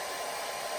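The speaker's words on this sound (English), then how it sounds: "turn my blow dryer on low" A blow dryer running on low speed while styling a beard, giving a steady, even whoosh of airflow close to the listener for a brief moment.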